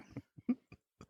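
Several short, sharp coughs hack close to a podcast microphone, five or so separate bursts spaced unevenly over about a second.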